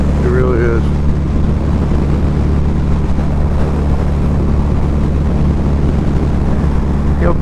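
A 2012 Harley-Davidson V-Rod Muscle motorcycle rumbles under way, a loud steady low engine drone mixed with wind buffeting on the microphone.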